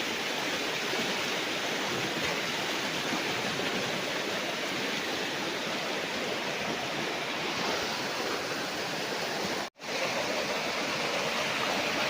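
River water flowing beside a farm lot in Majayjay, Laguna, a steady broad rushing roar with one brief dropout near the end.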